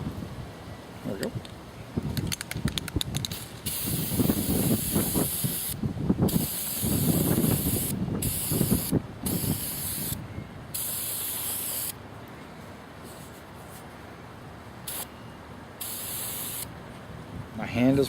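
Spray can priming miniature wargaming models outdoors in gusty wind: repeated hissing aerosol bursts of varying length with short pauses, fairly close, with wind noise and some talk over parts of it.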